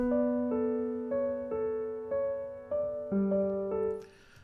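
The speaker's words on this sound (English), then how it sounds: "this is what it sounds like on piano right now" A piano plays a slow melody of repeated sustained chords, each struck note ringing out before the next, ending with a brief noisy tail; clear and close with no voices.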